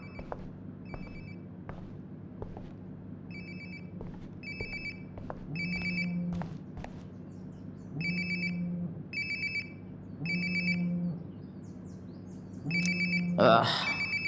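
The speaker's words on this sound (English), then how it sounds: "Sounds like my phone is definitely nearby." A phone ringing inside Life Is Strange: Before the Storm, a repeating electronic ringtone in regular bursts over several cycles, heard alongside a low background hum and a few clicks, ending in a brief louder rustle.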